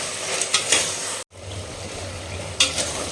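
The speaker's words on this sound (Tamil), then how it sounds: "ஸோ இது நல்லா வதங்கட்டங்க" Onion-tomato masala with salt sautéing in a pan for country-chicken basmati biryani: a steady soft sizzle with occasional stirring scrapes, a brief gap partway through, close and alone without talk.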